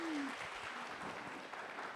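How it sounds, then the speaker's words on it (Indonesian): An audience at a family seminar gives a short burst of dense, steady clapping for a speaker, with a brief voice at the start. "Mari sama-sama kita berikan aplaus buat Bu Ana."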